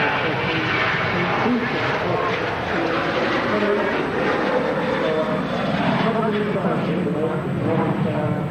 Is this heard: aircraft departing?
yes